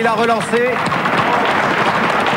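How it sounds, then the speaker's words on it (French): A studio audience on a French game show, La Roue de la Fortune, breaks into dense, loud applause that follows a brief line of speech and then carries on as a continuous wash of clapping. "On peut l'applaudir là"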